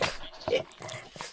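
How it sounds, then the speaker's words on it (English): A pug dog breathing and making odd snorting, whimpering noises, recorded as raw material for alien creature sounds in Halo Infinite; short close bursts with a louder grunt midway. "343 is using a pug to make alien sounds for upcoming Halo Infinite"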